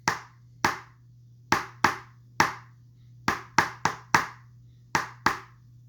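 Sharp hand claps tap out a dotted quarter note rhythm in an uneven pattern of about fourteen hits, close and crisp over a steady low hum, with no counting spoken.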